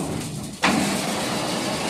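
A PLD1200 three-hopper batching machine's motor switches on abruptly partway through, jumping from a low background hush to a loud, steady mechanical hum that holds evenly to the end.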